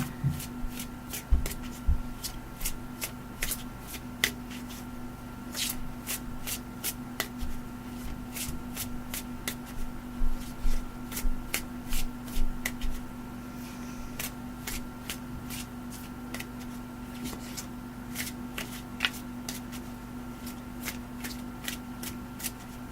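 Oracle cards being shuffled and handled during a crystal-themed card reading, with repeated quick riffling and flicking bursts over a steady low hum, no voices.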